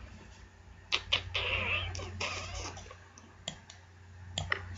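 A house cat near a Christmas tree lets out a drawn-out, fairly quiet meow between sharp clicks and taps, with a low steady hum underneath.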